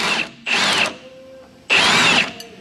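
A power tool whirs in three loud, close bursts, separated by short pauses, as it loosens the lower shock bolt on a Tesla Model Y during an adjustable coilover install.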